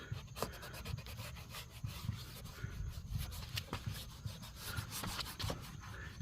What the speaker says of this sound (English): I'm sure I can start rubbing this stuff off.